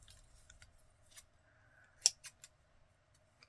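Scissors snipping thread off a sari silk ruffle, a few soft quiet cuts followed by one sharp close snip and two lighter ones in a quiet room.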